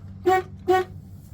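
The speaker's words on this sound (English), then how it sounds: "Honk the horn." Two short honks of a car horn in quick succession, loud and close, over a low engine rumble.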